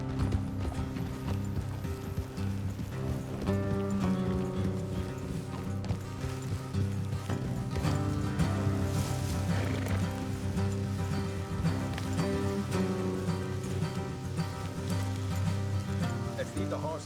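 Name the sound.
horse hooves clip-clopping in the rain, Red Dead Redemption 2 video game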